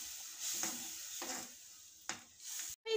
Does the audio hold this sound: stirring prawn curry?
yes